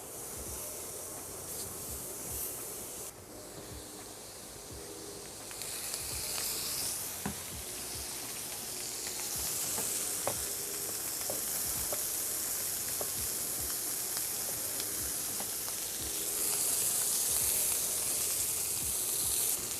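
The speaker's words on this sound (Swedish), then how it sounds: "Sen drar vi olja och drar i vitlök." Oil and garlic sizzle in a frying pan while steak cooks, a continuous crackling hiss with scattered pops that grows louder and denser after a few seconds, close and steady, with no talk.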